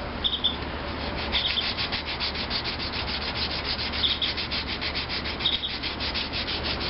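Hand sanding of spot putty on a Maytag Model 72 stand being prepared for paint, with steady back-and-forth rubbing strokes repeating in an even rhythm, close and alone.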